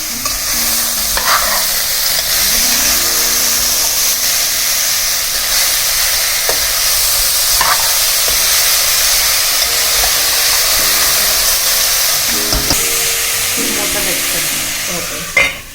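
Beetroot stirred and fried in a pan, a loud continuous sizzle with steamy hiss and occasional scraping stir strokes, close up throughout.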